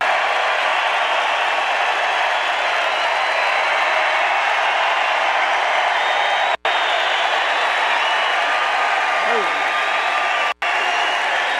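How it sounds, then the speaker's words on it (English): Steady roar of crowd applause at a Trump rally in Glendale, Arizona, sustained and fairly loud with two brief dropouts, heard as through a broadcast feed. "I don't think I've ever introduced anybody that got applause like that."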